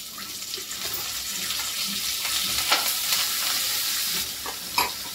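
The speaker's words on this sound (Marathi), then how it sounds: "थोडंसं हिंग टाकूया, कढीपत्ता टाकूया" Asafoetida and curry leaves sizzle in hot oil, a moderate steady crackling hiss with a few sharper pops and light stirring knocks throughout, close and without talk.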